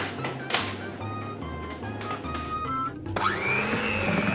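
An electric mixer whirs steadily as it beats a mixture until light and fluffy, a continuous close motor drone with a brief knock partway through and a rising whine as the speed changes near the end.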